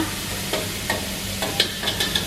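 Coconut cream frying in a pan until the oil separates, for a Thai banana-stem curry with chicken, bubbles with a steady close sizzle and a few sharp spits and ticks, with no talk.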